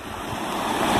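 Rain falls in the rural interior of Pernambuco, Brazil, a loud, dense, continuous hiss of downpour that swells slightly, with no voices.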